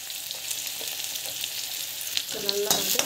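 Cumin, green chilli and asafoetida sauté in a pan, giving a soft continuous sizzle with a few scraping stirs near the end.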